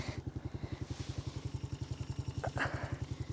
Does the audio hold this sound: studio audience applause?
no